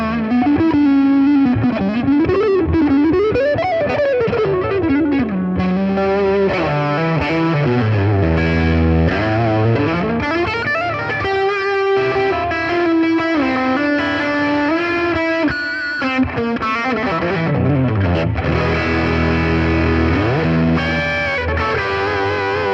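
Electric guitar through a Zoom G3Xn multi-effects unit with delay and reverb, sustained distorted notes sliding and repeating in long echoing trails, loud and continuous with no talking.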